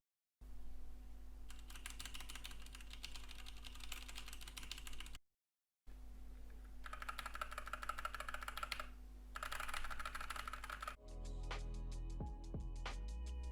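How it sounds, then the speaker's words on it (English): A mechanical keyboard with brown switches, keys bottoming out hard, is typed on in fast bursts of close, even clacking with short pauses. A different, sharper clicking follows near the end. "for you keyboard enthusiasts out there, here's a quick sound test"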